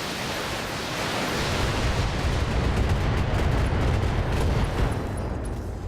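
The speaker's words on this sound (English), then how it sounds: "And we got an ammo explosion." An ammunition explosion destroys a mech in the BattleTech video game, heard as a heavy, sustained blast roar with deep rumbling and broad noise that holds steady and loud for several seconds.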